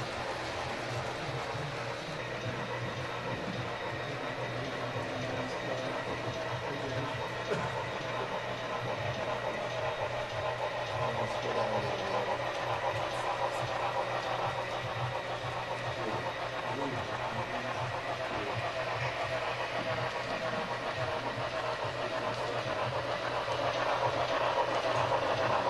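A model train rumbles steadily along its track on a club layout with a constant low hum, continuous and unchanging throughout.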